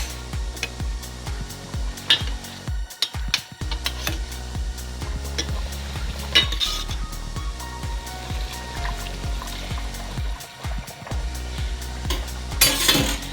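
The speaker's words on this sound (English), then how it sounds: "I'm going to add my potatoes now. So I just cut up 3 medium-sized potatoes. I'm going to give that a mix." Potatoes being stirred into a chicken curry in a pot, with repeated spoon scrapes and clinks against the metal pot and wet, thick stirring sounds, close and continuous with no voices.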